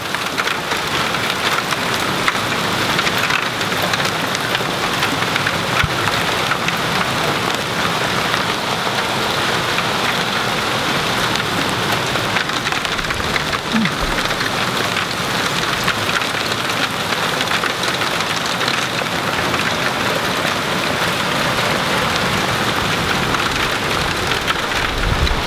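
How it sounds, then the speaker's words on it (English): Hail falls on a homestead garden during a storm, a dense, continuous rattle and hiss of impacts that stays loud and steady throughout, with no one speaking. "And then there was hail."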